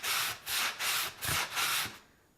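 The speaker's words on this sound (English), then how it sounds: "When you sand, you actually want to be at a" Drywall joint compound is sanded by hand in five rhythmic, raspy strokes, each a close, gritty scrape, before the sound falls away to quiet.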